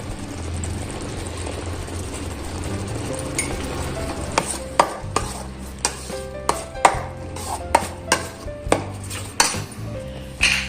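Masala frying in oil over a low flame gives a soft continuous sizzle, while a spoon repeatedly clanks and scrapes against the pan in sharp, irregular knocks.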